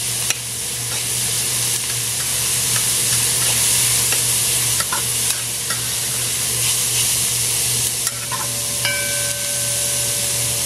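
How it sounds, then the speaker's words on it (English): Garlic and onion sizzle loudly and continuously in a pan for curry long beans, with a steady frying hiss and occasional stirring clicks. "I'm going to go in with the garlic now."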